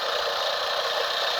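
A motorbike engine runs with a steady, even drone, close and continuous, mixed with rushing wind noise and no voices.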